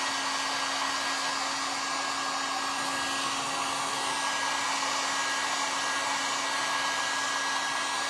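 A hair dryer runs steadily, drying a Dollar Tree craft picture frame. Its close, constant whir and hiss hold at one level with a fixed hum tone throughout, and no one speaks.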